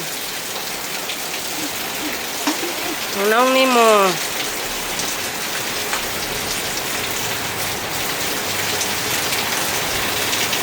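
Steady rain pattering on a surface throughout, with a brief spoken remark and a short rising tonal sound near the middle.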